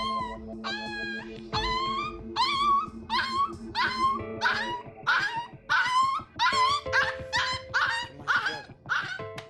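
A young abandoned puppy, its belly swollen with fluid from eating sand, whimpers and yelps repeatedly in high, rhythmic cries during emergency treatment, close and loud over a low steady background hum.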